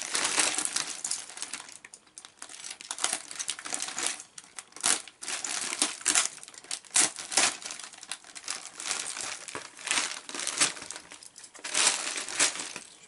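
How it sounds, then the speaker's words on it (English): LEGO packaging cut open with an X-Acto knife, a run of crinkling plastic and sharp rustling snaps, close and irregular, with no talk. "Grab a little X-Acto knife to get this open."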